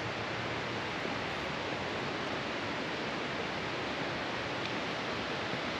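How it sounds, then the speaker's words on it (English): A steady, even roar of falling water, constant and broadband with no pauses, from Bridal Veil Falls, about 60 meters high, heard from a short distance. "I can hear the waterfall."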